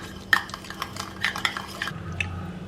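A spoon or whisk beats a mixture in a bowl after a squeeze of lemon juice, giving quick clinking and scraping strokes against the bowl in an irregular rhythm, close and fairly quiet.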